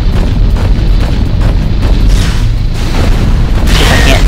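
Explosion in the first-person shooter Unreal Tournament 3, a loud deep boom with rumbling low-end filling the whole stretch, sustained and dense rather than a single isolated hit.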